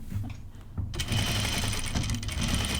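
A sewing machine stitches a rayon tunic, starting after a quiet moment near the start and then running steadily and loudly to the end with a dense mechanical whir. No one talks.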